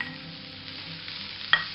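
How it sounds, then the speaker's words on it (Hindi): Carrots, French beans and cabbage sautéing in a pan over a medium-high flame for a vegetable Manchow soup give a soft, steady sizzle, with one sharp stirring clink near the end. "मीडियम टू हाई फ्लेम पे ही इन सारी सब्जियों को हमें सौते होने देना है"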